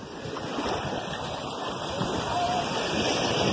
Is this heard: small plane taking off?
no